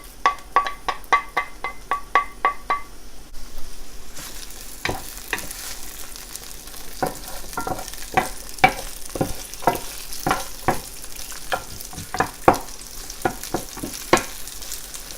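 Garlic, onion, ginger and peppers stir-frying in hot sesame oil, first a quick run of rhythmic knocks, then a sizzle rising behind repeated sharp clacks of a spatula on the pan, close and lively, with no talking.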